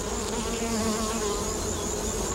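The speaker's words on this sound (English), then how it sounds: "The native bee doesn't have a sting, and he looks like a little fly" A native Australian stingless bee, small and fly-like, buzzes steadily and close in the northern Australian bush near Doomadgee, a continuous droning hum with no voices.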